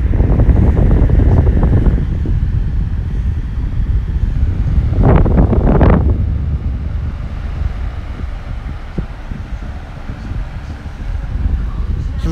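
A COOLWORKS 12-inch high velocity fan with a ball bearing motor runs on high speed, giving a steady, loud, close rushing of air that swells briefly midway and continues without pause.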